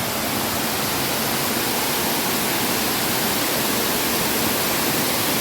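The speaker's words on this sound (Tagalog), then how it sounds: "So pagkakait nyo dito sa hagdan ay wow! May waterfalls." A waterfall pours steadily in a Hong Kong park, a loud, dense, unbroken rush that fills the whole clip with no pauses or voices.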